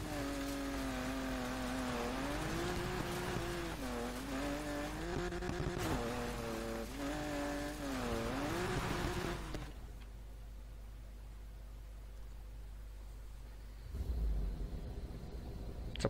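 A Porsche Panamera in the Need for Speed Payback video game, with its engine droning and rising and falling in pitch through gear changes for about ten seconds before cutting to a quieter low rumble.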